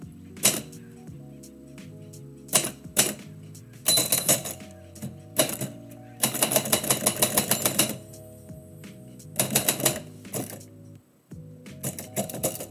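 Typewriter keys striking in irregular bursts during live typewriter poetry writing, with clustered clacks, pauses between runs and mechanical rattles, close and fairly loud with no talk.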